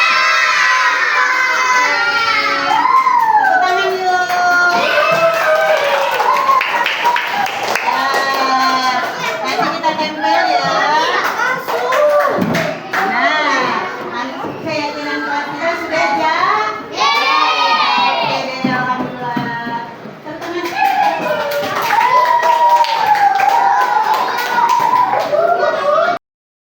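Elementary schoolchildren in an Indonesian classroom at SDN 01 Pulau Gebang shout and cheer together in a loud, continuous roomful of young voices, with possible clapping blended underneath for nearly half a minute.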